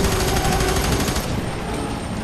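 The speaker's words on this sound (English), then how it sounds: "I just shot your leg and then I shot your face right afterwards." Rapid automatic gunfire from the shooter game FEAR 3, a dense stream of shots for about a second before fading into a lingering rumble.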